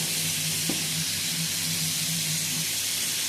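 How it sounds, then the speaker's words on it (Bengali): Taki fish coated in salt and turmeric frying in a pan: a continuous close hiss and sizzle of hot oil with a low steady hum underneath, even in loudness and without speech. "এই যে মাছ ধুয়ে লবণ হলুদ মেখে নিয়েছি, এখন এই যে ভাজতেছি"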